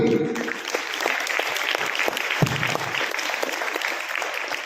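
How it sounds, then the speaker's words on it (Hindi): A school assembly audience claps together in a steady, fairly close round of applause that holds evenly throughout, with no talking over it. "Please give a huge round of applause for today's assembly."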